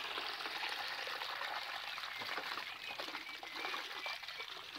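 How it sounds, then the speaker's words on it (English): Floodwater pools behind a levee barrier and trickles through in a soft, continuous gurgle and dribble, fairly faint and steady throughout. "Good lord, that's a lot of water."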